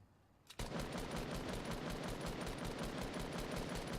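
Rapid automatic gunfire in the video game Fortnite Battle Royale, a steady, loud, dense burst of shots starting after a short quiet moment and running continuously to the end.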